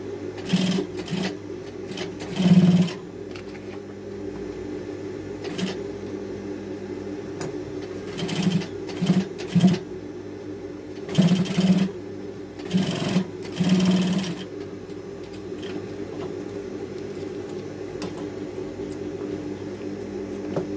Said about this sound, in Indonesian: Jahit tindas lagi.